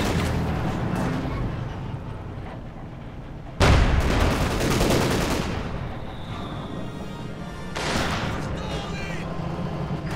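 Battle gunfire from a T-35 multi-turret tank in the strategy game Company of Heroes 2: a sudden heavy boom, then rumbling shots and crackling bursts of fire continuing under a commentator's steady talk.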